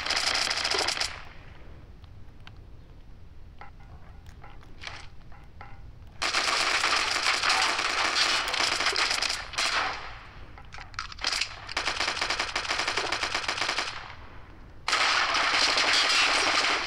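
Bursts of automatic gunfire from the video game Jailbird, loud and sustained in long stretches, with quieter gaps and scattered sharp shots between them.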